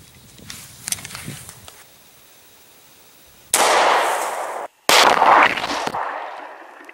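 A 9mm Hornady American Gunner round is fired in a ballistics test, with two abrupt, loud blasts about a second and a half apart. Each blast rings on briefly before cutting off, after a quiet stretch with faint rustling and knocks.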